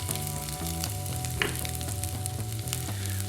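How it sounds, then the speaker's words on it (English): Onion sizzles steadily in melted butter in a pan over medium heat, a continuous close crackle with occasional stirring scrapes and soft tonal hum beneath, no voices. "All right, get the butter in there. Let that melt. Okay, we're going to toss in the onion"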